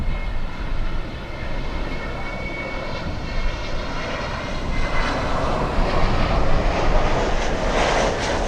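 Lufthansa flight LH462 arrives at Miami International Airport, its jet engines a steady broad roar that swells slightly louder toward the end, heard alone without voices.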